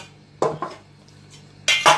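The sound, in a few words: pressure cooker being handled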